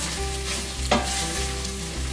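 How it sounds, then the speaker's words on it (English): Sloppy joe mixture being stirred in a hot pan, a steady close sizzle and frying hiss throughout with a brief scrape of the spoon near the middle, no voices. "Give it a quick little stir"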